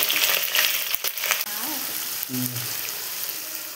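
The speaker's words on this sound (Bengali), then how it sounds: "তেজপাতা দিয়ে দিলাম। পেঁয়াজগুলো দিয়ে দিচ্ছি।" Onions and bay leaf fry in hot oil in a pressure cooker for homemade mutton biryani, a steady close sizzle with brief crackles and a faint low voice murmuring.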